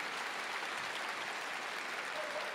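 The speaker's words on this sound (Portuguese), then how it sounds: "tem que dar uma salva de palmas para esses músicos" Church congregation applauding musicians who sang outdoors in the cold, a steady dense wash of clapping filling the whole stretch at even loudness, with no voices over it.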